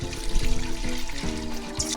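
Two cups of water poured for a simple vinegar pickle brine, a steady close pouring trickle with a few brief surges, heard alone without talk.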